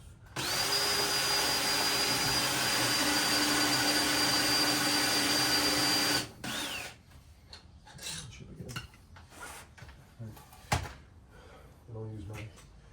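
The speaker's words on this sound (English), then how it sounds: "Impact drill." An impact drill whirs continuously for about six seconds driving screws into a 2x4, then stops, followed by clattering and handling noises with someone talking briefly.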